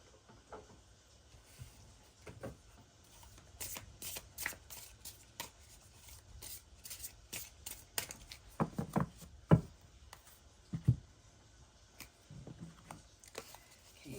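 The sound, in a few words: shuffling a Mayan tarot card deck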